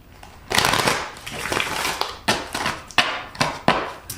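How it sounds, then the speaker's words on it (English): A deck of tarot cards being shuffled up close, with a riffling burst followed by a run of sharp, evenly spaced snaps and flutters as the cards are cut and tapped together, heard alone. "I took the liberty shuffling the cards"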